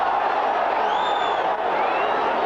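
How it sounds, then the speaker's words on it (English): Crowd noise at a 1985 rugby league match between New Zealand and Wigan, a steady dense roar of many voices reacting to a tackle, loud and continuous with a few rising whistles or shouts above it. "Crowd didn't like the tackle."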